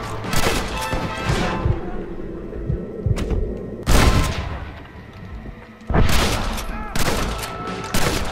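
Rifle gunfire in Red Dead Redemption, loud booming shots and cracking bursts in clusters amid chaotic in-game noise, with sharp blasts near the start, middle and end.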